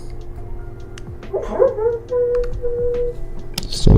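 A sleeping dog makes muffled, dreamy woofs and a drawn-out whimpering whine, soft and close, with a small rustle and a few clicks around it.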